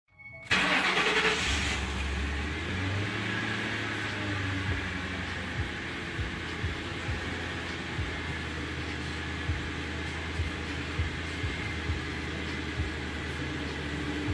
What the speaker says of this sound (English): Okay, so now we'll start the engine.